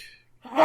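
A single short sneeze bursts out near the end after a quiet breath, close and moderately loud.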